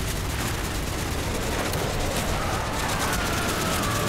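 Gunfire in the Call of Duty: Black Ops video game: a loud, dense burst of rapid shots that fills the whole stretch with no letup and no voices.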